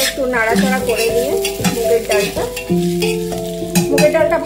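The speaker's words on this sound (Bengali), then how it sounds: "একটু নাড়াচাড়া করে নিয়ে" Potatoes and already-fried moong dal are stirred in a frying pan, with a spatula scraping in repeated squeaky, tonal strokes over a soft sizzle, close and fairly loud.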